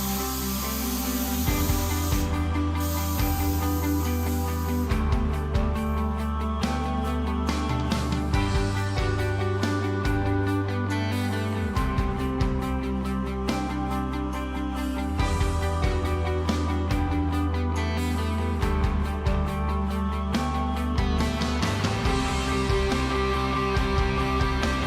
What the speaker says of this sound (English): Alright, we've started spraying.